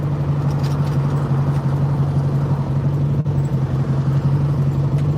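A 1968 Ford Mustang cruises along with a steady, low engine drone and road rumble heard from inside the car, with no talking.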